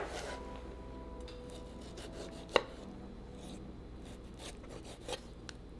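A knife slices a tomato into strips and small cubes on a cutting board, giving soft repeated cuts and taps with one sharper knock. Close and quiet, with no voices.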